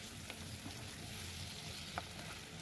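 Gobindobhog rice tumbles into spices frying in a pan, a soft steady sizzle throughout with a faint stirring scrape or two, close and fairly quiet, no voices.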